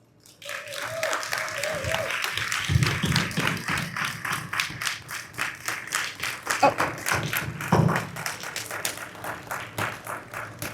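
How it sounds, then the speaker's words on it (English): An audience at an economic summit gives a round of applause, the claps building quickly and then continuing as a steady, rhythmic patter, with a voice briefly audible beneath them. "if we could give our trilogy a wonderful round of applause"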